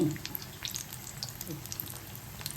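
Chili bajji fritters fry gently in oil, a soft, quiet crackle of small pops and bubbling at low level, steady and close.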